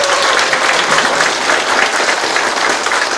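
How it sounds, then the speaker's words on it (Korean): Loud, sustained applause from an audience at a civic town hall meeting with the city mayor in Sindun-myeon, Icheon, a dense steady clapping that fills the whole stretch without speech. "힘찬 응원의 박수 부탁드리겠습니다"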